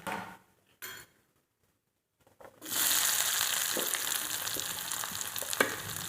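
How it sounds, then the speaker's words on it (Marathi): Chopped onion hits hot oil tempered with mustard and cumin seeds in a kadhai, bursting into a loud, steady sizzle after a few quiet clinks, then frying continuously with occasional stirring scrapes. "आपण आता ह्याच्यात कांदा टाकून घेऊ।"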